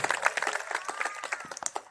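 Audience applause for the president at a Jat community Diwali gathering in Greater Noida: dense, steady clapping from a crowd, continuous throughout with a faint voice tone drifting beneath it.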